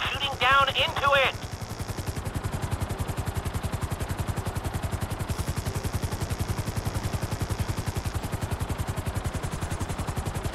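A helicopter hovers in GTA V with a fast, steady rotor chop that stays loud and even throughout, while a voice briefly calls out over it at the start.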